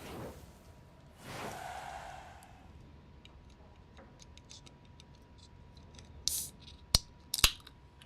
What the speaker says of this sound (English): I had to use my scissors